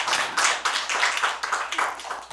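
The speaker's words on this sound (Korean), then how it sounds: "박수 좀 한번 해드리자고요" Audience at a Korean church pastors' winter seminar claps for a pastor, a short burst of fairly close, uneven hand clapping with a few bursts and dips, no talk over it.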